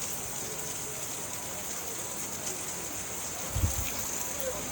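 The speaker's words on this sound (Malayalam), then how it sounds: "പക്ഷേ ഈ മഴ തന്നെ പോകും" Steady rain hissing on surfaces all around, a constant wash of drops, with a brief low thump near the end.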